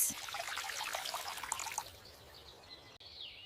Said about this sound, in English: I pour water near the roots.